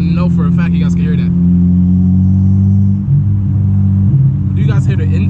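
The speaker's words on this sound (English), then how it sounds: "Do you guys hear the intake? That crap is so loud." Loud, steady engine and intake drone from a 9th gen Honda Civic Si under way, a strong low hum holding for several seconds with a brief dip, while a voice talks over it at the start and end.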